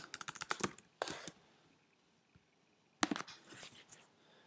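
Close computer-keyboard typing: a quick burst of crisp keystrokes, a brief pause, a second short burst, about a second and a half of near silence, then another run of taps.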